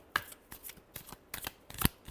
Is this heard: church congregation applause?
no